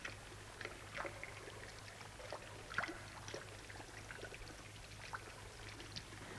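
Rising floodwater in New York City flows and trickles steadily in a low, faint wash of moving water with a few soft splashes, heard alone without talk.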